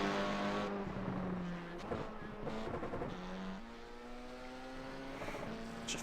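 A race car engine in iRacing lapping the Circuito de Jerez revs and shifts through gears, pitch climbing and dropping between upshifts, steady and prominent with no talk.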